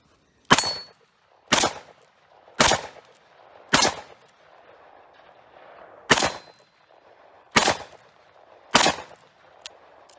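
Taurus Model 66 revolver firing .357 Magnum rounds at a shooting range: seven sharp, loud, evenly spaced shots, each a sudden crack with a short ringing tail, with quiet gaps between them and no talking.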